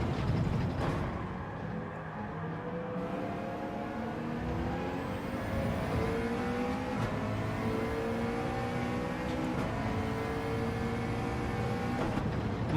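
Race car engines in Gran Turismo 7 daily racing, a steady layered drone of several cars with rising and falling pitch through gear shifts, moderately quiet and continuous with no talk.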